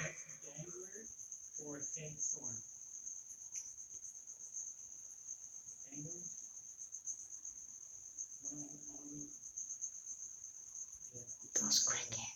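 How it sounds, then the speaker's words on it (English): A constant high-pitched chorus of crickets chirping, loud and close, with people talking quietly over it at intervals. "Those crickets are driving me crazy. They're so loud."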